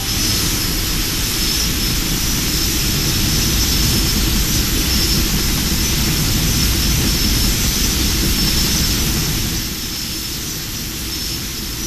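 Steady, loud jet engine roar inside the cabin of a LAN Airbus A320 on the Santiago to Punta Arenas route, waiting before takeoff; a broad continuous rumble with a high whine that eases slightly near the end, with no talking.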